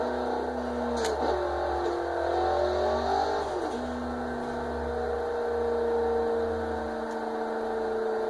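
A truck engine rumbles past nearby, its pitch shifting as it passes, over a continuous low hum.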